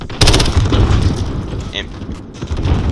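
Close, loud gunfire in Modern Warfare, a burst of sharp booming shots followed by rattling shots and echoing impacts, with a voice speaking over it.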